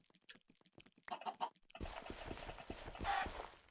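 Minecraft chickens clucking in short bursts, mixed with game footstep clip-clop sounds and a denser burst of activity in the second half, with some faint voice in the background.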